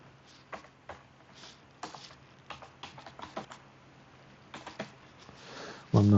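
Typing on a computer keyboard during PDF malware analysis work, bursts of crisp close key clicks in an uneven rhythm with short pauses, quiet room hum beneath, then a brief louder noise at the end.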